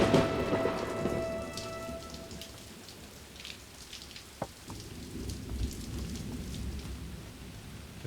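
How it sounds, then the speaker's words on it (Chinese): Heavy rain falls steadily during a thunderstorm, with a hiss that fills the whole clip, a sharp crack of thunder near the middle and low rumbling underneath. "这么大雨还出去找他。"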